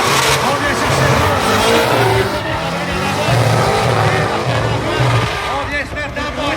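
Drift cars slide hard through a corner at a Route 66 drift round in Mirabel, engines roaring loud and continuous with tyre squeal, while a commentator talks over the action.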